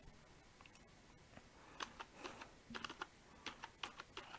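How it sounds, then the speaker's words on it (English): Quiet keyboard typing, irregular clicks of keys pressed in short bursts, close and faint against a soft background hiss. "typing"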